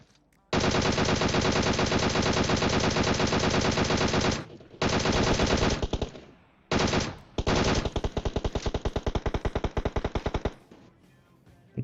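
Rapid automatic gunfire from the mobile battle-royale game PUBG Mobile, with Kar98 rifle shots in the mix, plays as loud, dense bursts. Short gaps break the bursts, and the firing stops near the end.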